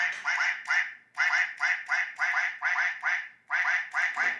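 Ducks quack loudly and close by in a rapid series of about nine or ten harsh, nasal bursts with short gaps between them, heard alone without any voices.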